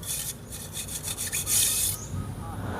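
A thin tool scrapes dry dirt from the fins of a motorcycle radiator, giving a close, raspy rubbing with a quick series of short strokes followed by a longer scrub, with no one talking.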